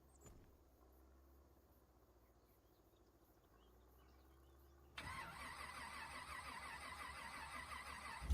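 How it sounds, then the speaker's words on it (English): A truck engine cranks in a farming game, a faint, drawn-out low starter whir under quiet insect-like ambience before the engine catches abruptly and settles into a louder, steady running rumble. "the startup time on this truck is too long"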